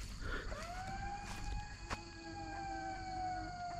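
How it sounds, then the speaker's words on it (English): A warning siren sounds near a bomb clearance site in Laos, a distant wailing tone that rises and then holds steady over outdoor background noise. "There goes the siren again."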